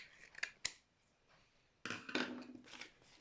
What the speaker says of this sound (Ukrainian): Ви бачили, як ножниці спочатку різали, як зараз будуть різати.